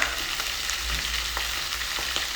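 Small omena fish fry with onion in a pot, a dense continuous sizzle with faint crackles and a low background rumble, close and steady with no talking.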